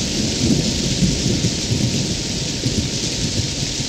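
Steady heavy rain pours down in a thunderstorm, with low thunder rumbling through the whole stretch, loud and close, with no voices.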